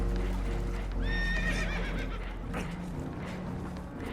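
Spooked horses in Red Dead Redemption 2 whinny in a sharp, rising burst of several overlapping neighs, with restless hoof clatter beneath and a steady rumble of water and wind throughout.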